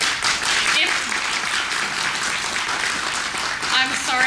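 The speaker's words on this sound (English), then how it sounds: "if our audience would refrain from applause until the end of the evening" Audience applause at a debate, a dense burst of clapping with some cheering, loud and continuous throughout the short stretch.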